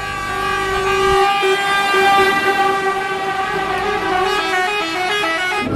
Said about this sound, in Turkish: nakliyeci esnafı Ankara-İzmir asfalt üzerinde sirenler, kornalar çalarak konvoy halinde hareket ettiler